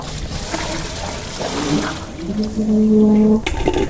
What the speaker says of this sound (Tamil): அடுத்து தண்ணி ஊற்றிக்கிறோம்